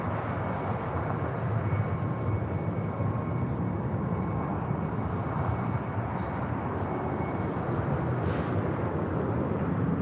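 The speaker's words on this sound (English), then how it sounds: "Aeromexico, the Dreamliner, next heavy departure here on the south side." Aeromexico Boeing 787 Dreamliner heavy jet departing from the south side at LAX, a loud, steady broadband engine roar that holds throughout.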